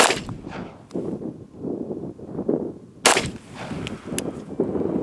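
A Nighthawk 1911 pistol fires at a target about 10 yards away on an outdoor range: several loud, sharp cracks spaced apart over steady wind and background rumble.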